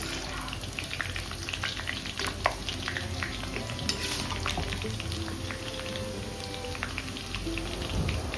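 Onion fries in hot oil for a chicken dish, cooked in a makeshift site kitchen. A continuous close crackling sizzle, broken by frequent stirring scrapes and clinks, carries on steadily throughout.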